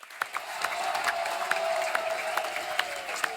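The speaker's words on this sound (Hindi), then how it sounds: "जोरदार तालियां हो जाए इनके लिए।" A studio audience on a comedy talk show claps at a moderate distance, with scattered sharp individual claps over a low music bed for a few seconds.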